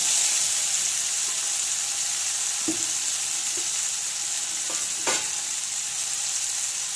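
Steady hissing sizzle of fried potatoes added to a pan with melted tomato, with a few soft clinks and scrapes as pieces are added and stirred.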